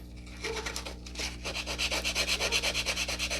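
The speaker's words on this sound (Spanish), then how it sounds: "con ayuda de lo que es una pequeña lija muy fina" Fine sandpaper is rubbed lightly over worn, carbonized Epson printer contacts. Close, dry scratching strokes settle into a quick, steady back-and-forth rhythm.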